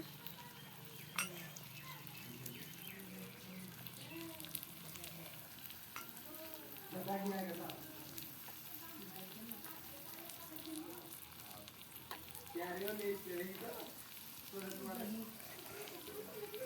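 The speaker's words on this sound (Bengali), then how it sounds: "আলু ভাজা করছি" Potatoes fry in a pan in a small home kitchen, a quiet, continuous sizzle with occasional stirring clinks, while a voice talks over it at intervals.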